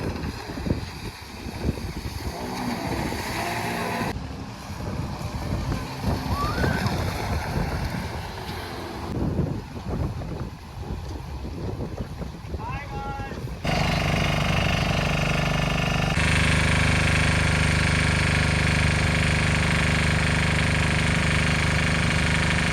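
A boat rides on the sea near Puri beach, with rushing wind buffeting the microphone and a rough droning engine that turns into a louder, steady, dense roar in the final stretch.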